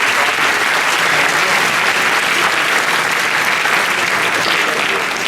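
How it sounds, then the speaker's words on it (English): An audience applauds steadily for several seconds after a lecture, a dense, even wash of many hands clapping with no voices standing out. "we will end this lecture with another round of applause"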